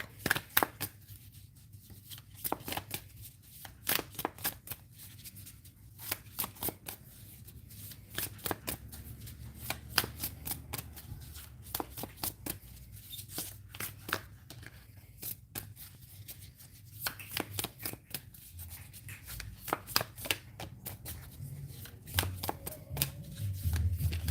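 Tarot cards being shuffled close by, a long run of rapid riffling bursts repeating in steady waves, with no talking.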